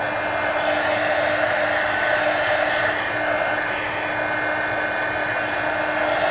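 A hair dryer blows steadily and loudly at close range for the whole stretch, drying a string art project, with a constant airy roar and a faint motor whine and no talking.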